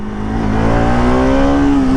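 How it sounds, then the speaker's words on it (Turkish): Bajaj RS 200 motorcycle engine revving up close, loud, its pitch climbing steadily over a couple of seconds with a vibrating, buzzy edge. "Böyle motosikletten inanılmaz titreşim sesleri alabilirsiniz."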